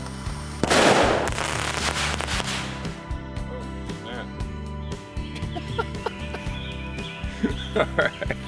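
A homemade rocket launcher fires its homemade rounds outdoors around the Fourth of July: a loud sharp burst followed by a string of irregular cracks, pops and snaps, with a steady background tone and rooster-like squawks.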